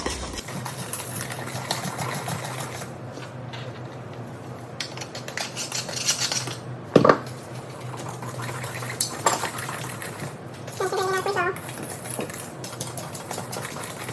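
A chocoflan mixture being stirred in circles in a bowl, scraping the edges: a continuous soft swirling, scraping texture, close and fairly quiet, with a brief louder clink partway through and no talking.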